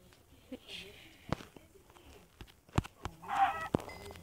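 Chickens inside a glass-walled coop cluck in scattered short bursts, mixed with sharp knocks and thumps, moderately close and fairly quiet, with a louder cluster of clucking toward the end.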